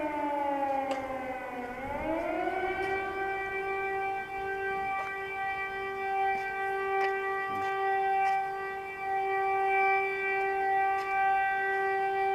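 An air raid siren in Zaporizhzhia wails from a distance, its tone sliding down and then rising to a long steady held pitch, faint and continuous in a quiet outdoor park setting.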